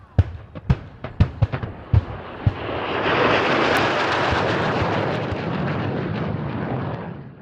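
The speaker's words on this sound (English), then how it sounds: "all types of military aircraft performing maneuvers using pyrotechnics to simulate a warlike atmosphere" Military warplanes at the EAA AirVenture air show in Oshkosh: sharp pyrotechnic blasts pop several times, then a loud jet roar swells in as an aircraft passes close and fast, rumbling on.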